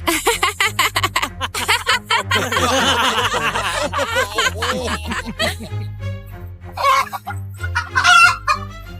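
Ten roosters gathered for a wedding cluck busily and at close range, with overlapping calls building into a loud crow near the end and no clear speech.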